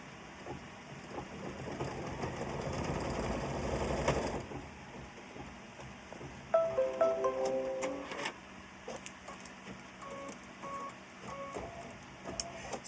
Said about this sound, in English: I'm going to stitch my placement for my mylar